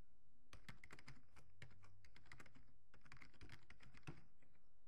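Fingers type an email address on a computer keyboard, a close, quiet run of rapid key clicks in two bursts with a short pause between, no talking.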